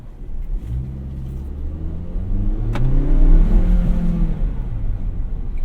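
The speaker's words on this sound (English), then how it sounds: "You can feel the EcoBoost kick in and it took off." A 2021 Ford Ranger XLT pickup with an EcoBoost engine accelerates hard from inside the cab, the engine note climbing in pitch through a gear change into a loud, steady rumbling pull.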